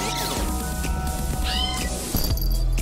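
A kitten meows in the video game There is No Game, with a couple of rising, drawn-out mews over layered game music and sound effects, clear and close.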